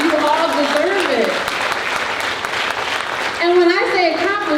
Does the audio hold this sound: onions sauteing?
no